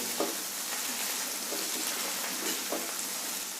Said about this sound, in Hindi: हम इसको भी घुमाते रहेंगे, जिससे कि हमारी भिंडी जो है नीचे से जल ना जाए